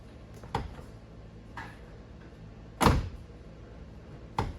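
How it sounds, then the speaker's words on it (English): A Jeep Wrangler door is lifted back onto its hinges, which have freshly replaced hinge liners. A few sharp metallic clicks and one solid clunk stand out over a steady background hiss. "Throw this door back on, I'll show you the difference."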